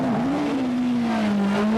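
A Delta T80 race car with a Vauxhall engine at speed during a motorsport festival in Belfast, a loud steady engine drone holding a high pitch throughout, close and without talking.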